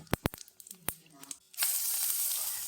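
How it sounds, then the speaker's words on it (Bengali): Asafoetida and whole garam masala hit hot oil, first with several sharp pops and crackles, then a steady loud sizzle that holds to the end. "কয়েক সেকেন্ড ফোড়নটা নাড়াচাড়া করে নিচ্ছি"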